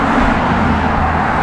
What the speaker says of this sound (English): besides those loud cars going by,